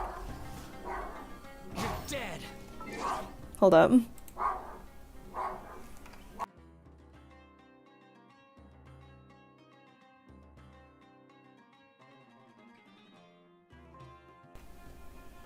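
Dogs barking at a person outside in a short burst of loud, excited yaps and barks, joined by a person briefly speaking, then fading into quiet background music.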